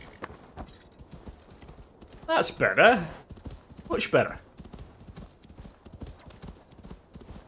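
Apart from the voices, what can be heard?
horse hooves clip-clopping in Assassin's Creed Valhalla video game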